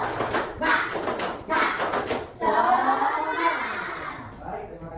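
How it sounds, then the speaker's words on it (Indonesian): A class of students doing the tepuk semangat rhythmic clapping chant, bursts of claps and voices in patterned groups, loud and close, with a brief pause near the midpoint before a longer sustained stretch. "Supaya lebih semangat, kita tepuk semangat dulu."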